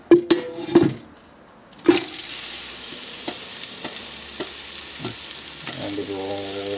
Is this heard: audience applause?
no